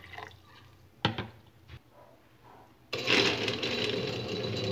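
Water is poured into a kitchen blender for a citrus drink made with orange or lemon peel. A loud, steady, splashing pour starts partway through and runs to the end, after a few soft knocks and clatters.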